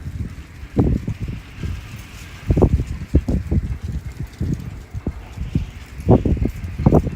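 Gusty wind blows hard outdoors, hitting close by in loud, uneven low rumbling bursts that rise and fall throughout with no voices.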